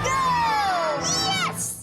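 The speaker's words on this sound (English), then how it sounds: "And the crowd goes wild!" A cheering, shouting crowd at a baseball game, loud and continuous throughout, with excited voices and whoops rising over the roar.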